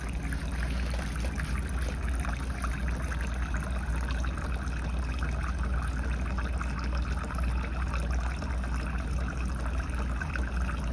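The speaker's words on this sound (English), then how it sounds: "Not a sound, except for the water flowing through the pump." Water trickles and flows steadily through the pump of a Rider-Ericsson pumping engine model, a continuous, even stream, close and unbroken, with no voices.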